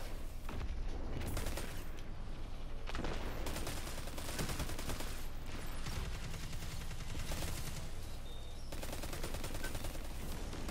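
Sustained video game gunfire with rapid automatic bursts and impacts in a dense, continuous mix that barely lets up throughout.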